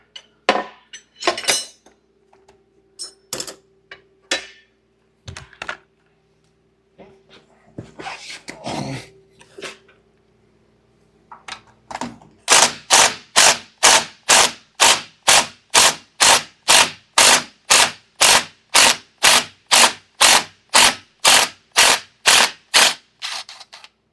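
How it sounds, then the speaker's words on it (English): A ratchet works a 10 mm bolt loose on the parking brake module of a 2013 Hyundai Genesis sedan, starting with scattered metallic clanks and handling noises, then settling into a long run of rapid, evenly spaced ratcheting clicks. "I'm gonna loosen the bolt at the back. That's 10 mm."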